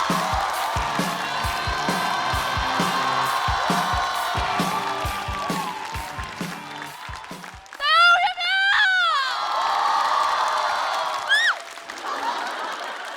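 A stand-up comedy show audience welcomes a comedian to the stage. Music plays over steady crowd noise, then bursts of cheering and shrill whoops rise near the end before fading.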